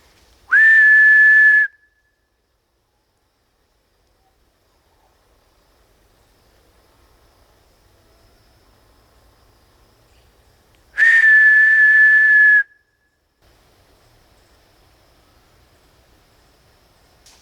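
Two breathy whistle tones, each held about a second and a half, separated by a long quiet gap with faint background rumble.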